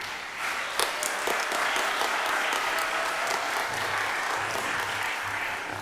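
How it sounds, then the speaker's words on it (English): A symposium audience gives a sustained round of applause, dense clapping that stays loud and steady from start to end with no talk over it. "Give him a round of applause."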